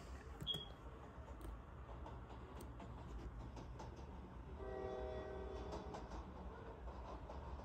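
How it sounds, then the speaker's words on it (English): A train in the Roblox Jailbreak video game rumbles along quietly with clattering wheels, and a faint horn sounds partway through against a low steady hum. "Look at that train."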